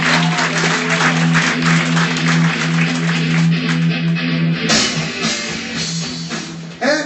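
Crowd applause and clapping for a comedian at a live roast comedy tournament, loud and sustained, fading slightly toward the end.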